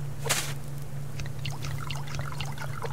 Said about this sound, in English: let's water the plants